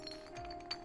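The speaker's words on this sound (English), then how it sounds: "2 glass vials filled with red liquid came rolling from out of my bag?" Glass vials clinking and rolling out of a bag in the Hakuoki: Kyoto Winds video game, a few light, faint chinks in quick succession over a low steady hum.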